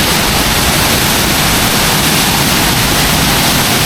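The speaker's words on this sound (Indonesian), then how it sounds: "Ada semacam air terjun juga, curug tuh, airnya sampai aur-auran." Waterfall (curug) in a forest near a remote village, pouring heavily: a steady, loud, dense rush of water with no breaks, filling the whole clip on its own.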